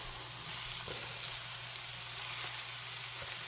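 Hamburger patties sizzle steadily on a hot Blackstone griddle, a close, continuous frying hiss with a few faint scrapes as they are moved around.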